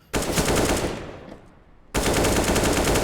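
An AK rifle fires in Counter-Strike: Global Offensive, a loud, dense burst of rapid automatic shots that fades briefly before a second sustained burst starts abruptly.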